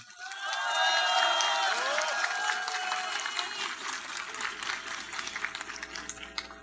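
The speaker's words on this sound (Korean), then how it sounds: "따뜻한 박수 부탁드립니다" A crowd at a Korean presidential candidacy announcement bursts into warm applause, swelling quickly and holding steady with scattered cheers, whistles and faint voices mixed in before slowly thinning.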